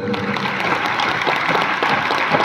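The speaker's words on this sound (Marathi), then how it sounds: "या सर्वांसाठी एकदा जोरदार टाळ्या होऊन जाऊ द्यात." Steady, dense applause from a large crowd after an NCC ceremonial drill at a college Republic Day celebration, loud and sustained throughout with no break.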